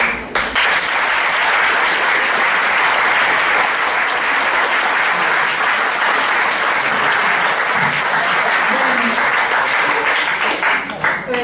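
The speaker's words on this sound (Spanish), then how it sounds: "Pues bueno, ese aplauso lo dijo todo." An audience applauds after a lecture, with loud, sustained clapping that holds steady for about eleven seconds before tapering off at the very end.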